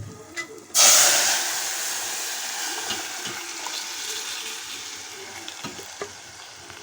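Asafoetida and curry leaves hit hot oil in a pan for a tempering, bursting into a sudden loud sizzle that then settles into a steady frying hiss, heard nearby with no talking.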